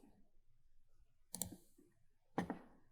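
Two sharp computer mouse clicks about a second apart, crisp and close, over a faint low hum with no talking.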